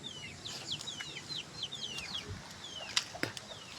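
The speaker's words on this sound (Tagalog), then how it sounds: "Ito yung manok ko guys, buhay pa sila." Chickens cluck during a typhoon in quick repeated calls with a few sharper squawks near the end, moderately close and without any talking.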